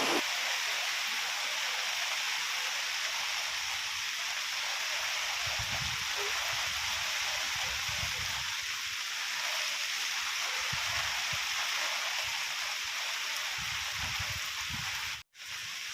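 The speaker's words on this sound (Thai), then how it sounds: "ตอนเช้าฝนยังตกเลยครับเพื่อนๆ" Steady broadband hiss of morning rain falling continuously on a campsite at Thong Pha Phum National Park, Thailand, with soft low rumbles and drips underneath; no talking, just an even wash of rainfall throughout.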